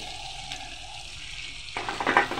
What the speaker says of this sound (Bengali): আমি এখন ঢেঁড়স দিয়ে দিচ্ছি।